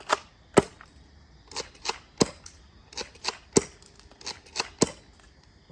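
A Nerf gel blaster shotgun fired outdoors at night, a series of about a dozen sharp snapping shots spaced roughly half a second apart with small mechanical clicks between them, close and distinct.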